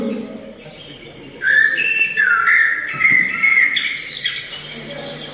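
A cartoon bird character's chirping, a bright run of high tweets and whistled calls rising in after a brief pause, lively and close, likely voiced by a person imitating a bird.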